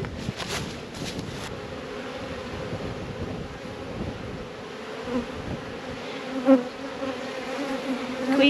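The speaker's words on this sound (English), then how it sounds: "We do have bees marching into the box currently" A dense, continuous buzz of a honey bee swarm humming close by as bees move into a box, with light wind rumble and a few brief bumps.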